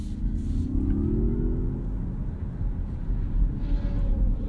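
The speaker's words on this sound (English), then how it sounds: "We get a simulated noise there from the speakers." A 2022 Mazda MX-30 EV Premium Plus plays its simulated drive sound through the cabin speakers, a low synthetic hum rising in pitch over steady road rumble, heard from inside while driving, no talking.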